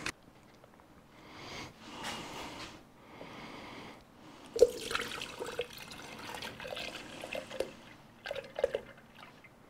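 Paint trickling through a strainer into the cup of a spray gun in a home garage, a soft liquid pour with small drips and splashes, close and quiet, with handling noises between.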